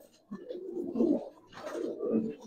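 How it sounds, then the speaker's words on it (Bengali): Old-breed pigeons cooing nearby, two soft rising-and-falling bursts of throaty calls separated by a brief quiet gap. "একবারে পুরান জাতের কবুতর, সম্পূর্ণ পুরান জাতের কবুতর"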